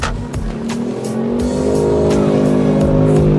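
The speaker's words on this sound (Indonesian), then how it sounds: "itu ada suara motor di luar kedengeran banget" A motorcycle with a loud exhaust revs and roars nearby outside, its pitch rising and holding steady with sharp bursts of exhaust noise throughout.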